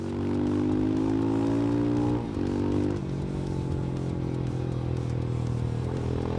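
Royal Enfield Himalayan 411 adventure motorcycle engine running nearby, a loud steady low thrum with a brief rev change partway through before settling back to an even drone.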